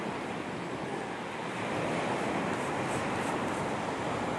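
Surf washing onto a beach, a steady broad roar of breaking waves with wind buffeting the microphone, loud and continuous throughout with no voices.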